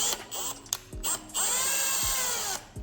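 An engine valve from a 2007 KTM SXF 250, clamped in a cordless drill, spins in short bursts: a whirring motor that rises and falls in pitch with clicks between bursts, close and loud, then a longer steady spin.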